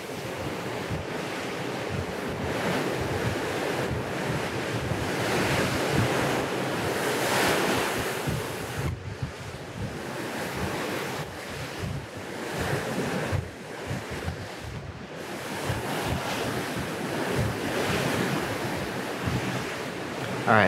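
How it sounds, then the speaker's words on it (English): Ocean waves rush and surge continuously past the moving cruise ship Carnival Liberty, broad loud wash with wind buffeting the microphone, no voices. "a ship like just going through the ocean here"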